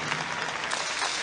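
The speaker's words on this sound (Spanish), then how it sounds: "El aplauso para él." Audience applause for an event producer at a Señorita México pageant ceremony, a steady, dense wash of clapping filling the whole short moment without pause.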